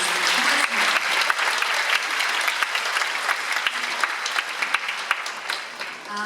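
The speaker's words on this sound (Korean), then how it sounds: "저희 공공기관 선배님들께도 다시 한번 큰 박수 부탁드리겠습니다" An audience at a public-institution joint recruitment briefing claps steadily for several seconds, a dense close round of applause that thins slightly toward the end.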